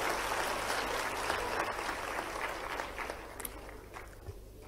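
Audience of students clapping loudly at a university youth dialogue event in a hall, a dense, steady wash of applause lasting throughout and fading slightly at the end.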